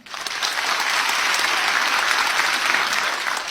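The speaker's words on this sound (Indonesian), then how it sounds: "Boleh tepuk tangan." Steady audience applause at a comedy roast event, a dense wash of clapping that holds loud and even for the whole stretch with no speech over it.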